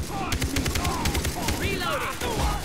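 Silenced gunfire in the co-op shooter game Far Cry 3, a rapid run of muffled suppressed shots in close succession over game ambience, with voices talking underneath.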